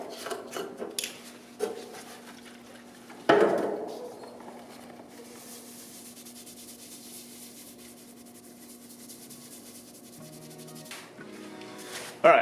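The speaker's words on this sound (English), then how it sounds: "use some more acetone. I'm just going to wipe these down again." Pistons being wiped down with an acetone-soaked cloth: soft, steady rubbing and faint scuffing, with an occasional louder clack of parts being handled.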